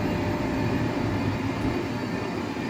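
A high-speed HS1 train rolls through Ebbsfleet International station with the final coach passing, giving a continuous, steady, loud rumble and roar without a break.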